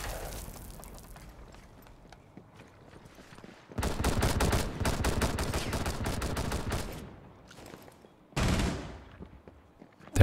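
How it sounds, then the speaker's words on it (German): Bursts of rapid gunfire in Rainbow Six Siege crackle loudly from above, fading between volleys, with a final sharp burst near the end. "Da kamen Schüsse von oben."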